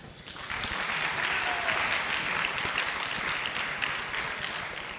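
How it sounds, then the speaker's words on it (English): Audience at a Vyasa Puja ceremony applauding for Bhanu Swami Maharaj, a steady sustained wash of clapping that swells in after a quiet start and holds evenly without talk. "Maharaj deserves an applause."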